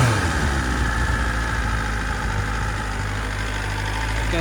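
A 2023 BMW S1000RR motorcycle engine idles steadily after a cold start, giving a continuous low, even rumble, close and unbroken, with no voices.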